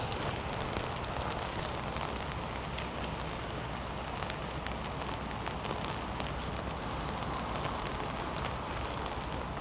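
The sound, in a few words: rain, people jogging in the rain in Leeds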